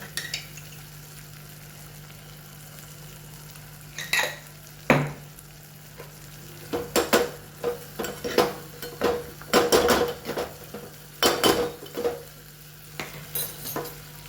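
Onion, tomato and spices sizzle in a pan for dal, with a steady frying hiss and bursts of spoon stirring and scraping against the pan. No one speaks.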